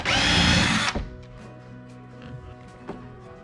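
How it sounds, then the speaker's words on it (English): A power drill whirs loudly for about a second while drilling holes in a jon boat, then stops, followed by quieter clicks and a faint lingering hum. "drill some holes, and either screw or rivet this down"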